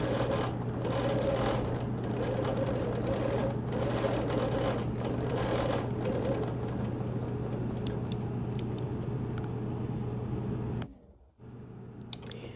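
A sewing machine stitches background quilting in white thread on a large bed quilt, humming steadily and close for about eleven seconds before cutting off briefly and restarting.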